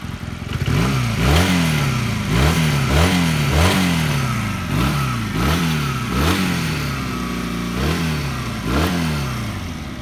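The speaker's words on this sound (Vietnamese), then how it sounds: "Máy nó nổ êm thì thầm thì nhé luôn." A 150cc Rebel USA motorcycle engine revs repeatedly in a regular rhythm, each burst climbing and falling in pitch, loud and close with no talking.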